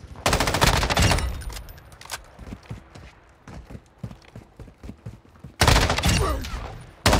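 Call of Duty assault rifle, likely an M13B, firing loud sustained automatic bursts at the start and end, with a stretch of rapid footsteps and lighter clatter in between, close and punchy.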